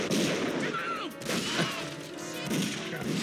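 Gunfire from a shootout scene in the 1997 film Money Talks, a dense burst of shots and crashes mixed with music and movie voices, with a person talking over it.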